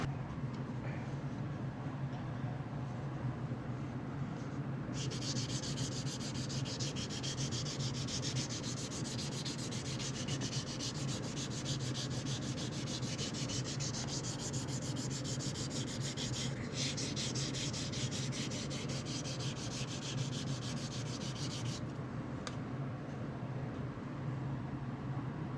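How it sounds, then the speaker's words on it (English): A Merlin right angle grinder power-sands a red birch laminate carving at 80 grit, giving a continuous close abrasive rasping whine with brief changes in pressure and no talking. "I'm using the Merlin right angle grinder."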